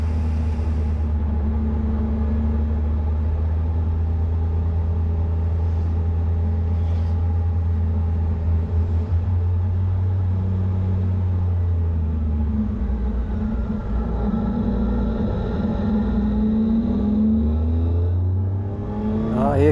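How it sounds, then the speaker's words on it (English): Sports cars, a blue Nissan and a yellow Ferrari, roar past on the Grossglockner mountain road, their engines revving under the steady low rumble of a nearby Triumph Tiger 800 XRT motorcycle throughout. "That looked like a blue Nissan chased by a yellow Ferrari."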